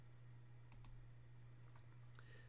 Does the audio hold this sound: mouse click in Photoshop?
yes